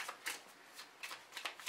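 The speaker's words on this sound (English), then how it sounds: "we got to shuffle them extremely well if we want to get out some amazing cards" Close, crisp riffles of Yu-Gi-Oh trading cards being shuffled by hand during a tabletop match, several quick papery bursts in an uneven rhythm and no voices.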